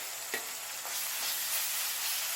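Onions sautéing in a pan with ginger-garlic paste for channa masala give a steady, fairly faint broadband sizzle with a couple of soft stirring scrapes, and no voices.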